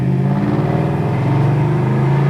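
A 1970 Chevy Nova SS engine starts, then idles and revs steadily, a constant mid-pitched rumble up close with no talking.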